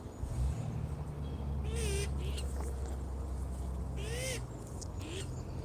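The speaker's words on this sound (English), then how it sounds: "the birds are making their noise" Outdoor birds call at dawn in a steady hum of background noise, with two distinct rising hooting calls and some faint chirps at moderate distance, no talking.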